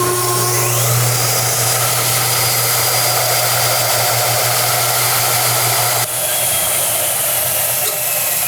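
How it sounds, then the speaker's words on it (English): A power sander runs with a loud, steady whir while shaping and rounding a part for a drag caddy build. The tone is close and continuous for the whole stretch, dipping briefly once, and nobody speaks. "I'm gonna sand this a little bit, make it more round,"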